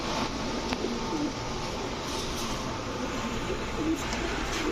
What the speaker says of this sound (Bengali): এটা হচ্ছে রয়্যাল টেডি মাদি